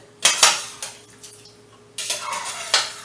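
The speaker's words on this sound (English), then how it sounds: "I'm just stirring that up in that broth" A spoon stirs food in broth in a pot, making several sharp metallic clanks against the pot in two quick bursts, close by, with quiet gaps between them.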